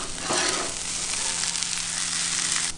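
Patty melt patties sizzle on a Camp Chef griddle over medium-low heat, a steady close crackling fry that holds evenly throughout with no talking.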